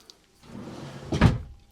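A drawer in the bunk room of a 2026 Forest River Puma Tracks 3150TBSS travel trailer slides along its runners and then shuts with a short, solid knock, heard close up with no talking.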